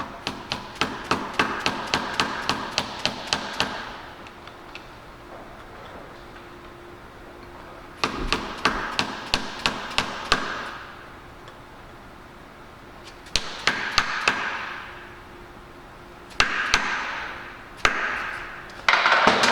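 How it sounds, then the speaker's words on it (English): Sharp metallic hammer taps on a motorcycle chain part in quick bursts, several rapid strikes per group, separated by short pauses, close and loud with no talking. "once you get it started, just tap it with a hammer"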